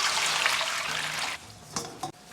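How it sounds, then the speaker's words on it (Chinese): Water pours and splashes steadily into a hotpot pot in an outdoor yard, a bright rushing stream that stops partway through, followed by a couple of short splashes and clinks. "锅中加点水"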